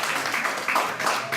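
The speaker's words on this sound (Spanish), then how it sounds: "Den un aplauso al Señor." Church congregation applauding in praise, a steady wash of many hands clapping indoors, moderately loud and sustained throughout.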